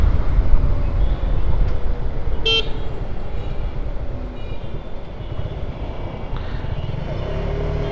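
A running train gives off a steady, moderately loud rumble throughout, with one brief horn-like toot standing out early on and no talking.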